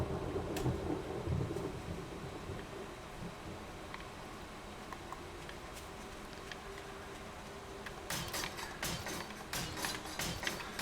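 Steady rainfall with low rumbling thunder in the video game 7 Days to Die, followed near the end by a burst of sharp crackling strikes.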